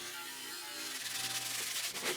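Sandpaper rubs against a wooden bowl in quick strokes, a close, gritty scratching that grows busier toward the end.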